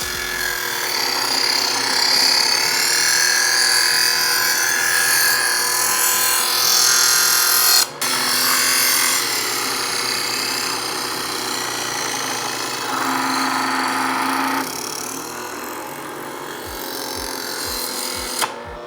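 A VEVOR electric knife sharpener runs steadily in a polishing pass on a kitchen blade, a close, continuous motor whine with rasping contact. A brief click partway through and a few soft knocks near the end.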